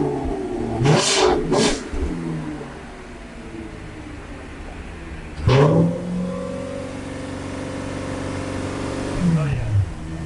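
Audi car engine starting cold and revving, with a few sharp rev bursts rising and settling into a steady idle hum; loud and close, with people talking in the background.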